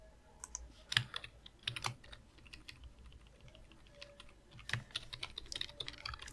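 Keys clatter steadily on a computer keyboard, a quiet run of soft irregular taps with a few louder clusters, close and alone with no talking.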